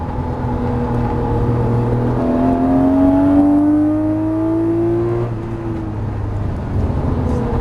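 A Lamborghini Murciélago accelerates on the Las Vegas Motor Speedway track, its engine note climbing steadily in pitch as it pulls through the gears, loud and close, then dropping off sharply as the throttle lifts.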